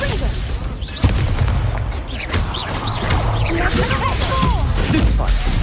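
Confringo blasting spell explosions in Hogwarts Legacy, with booming impacts, crashes and whooshing magic effects layered through dense game action, sharp hits near one and two seconds and a voice calling spells.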